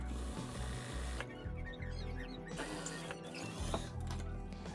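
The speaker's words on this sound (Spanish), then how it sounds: "voy a comenzar a coser la primera franja de la siguiente manera" A sewing machine runs steadily as it stitches a stripe onto a university-style jacket, its fast mechanical whirr continuous and close with brief changes in pace.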